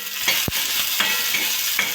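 Crumbled paneer and green peas sizzling in a little oil in a pan, a dense continuous fry hiss with soft scraping stirs from a deep spoon, close up and fairly loud, no voices.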